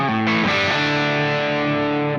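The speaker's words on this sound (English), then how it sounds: "And then the Kraken clean with the focus engaged." Electric guitar on the Kraken clean channel with the focus switch engaged, one loud strummed chord that rings out and sustains steadily, with no talking over it.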